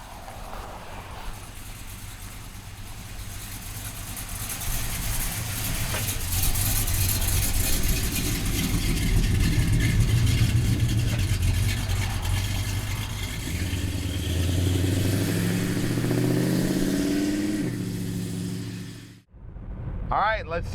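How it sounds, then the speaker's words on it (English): A 1967 Chevrolet Chevelle convertible's engine drones and rises in pitch as it accelerates through gears, loud and close, with wind noise, then cuts off abruptly near the end. "Now let's go outside and drive this convertible"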